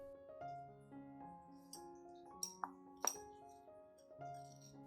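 A metal teaspoon clinks against a clean drinking glass while cinnamon powder is added, producing a few sharp, bright taps over a soft background of sustained music.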